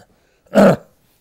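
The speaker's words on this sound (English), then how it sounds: "let me clear my throat here" A single short, gruff throat clearing, close and alone, surrounded by near silence.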